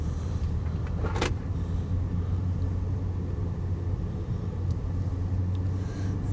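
A BMW M5 on the road, heard from inside as a steady, loud low engine and road drone with one brief click early on, and no talking.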